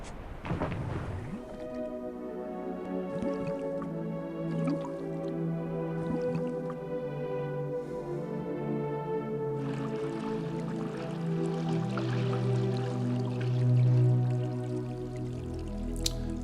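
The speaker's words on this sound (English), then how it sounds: "Now that the water's safe for swimming, I think it's time to see what's in that underwater cave." Swimming in water in The Dig adventure game, wet squishing and sloshing strokes over a sustained synth music bed, recurring every couple of seconds and fairly close, with no talk.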